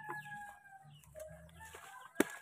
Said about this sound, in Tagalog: Mga wild yung mga manok dito yun.